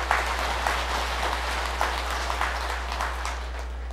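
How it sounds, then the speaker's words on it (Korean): Applause from an audience at a Buddhist dharma talk, a steady wash of many hands clapping throughout, moderately loud and unbroken, with no voices over it. "후원할 사람 박수 한번 쳐보세요"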